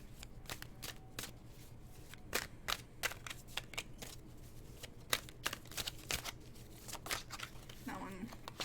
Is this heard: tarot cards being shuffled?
yes